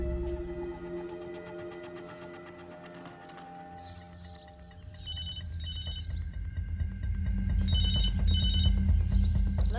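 A telephone rings repeatedly with an electronic bell tone, steady pulsing rings that grow louder toward the end, heard alone without talk.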